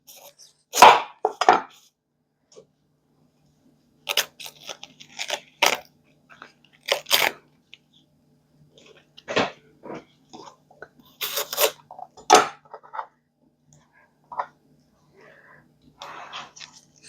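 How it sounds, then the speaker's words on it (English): A knife chops through a head of cabbage in a series of crisp, crunchy cuts that come in uneven bursts with short pauses between them, close and fairly loud with no talking. "We're going to cut up a head of cabbage."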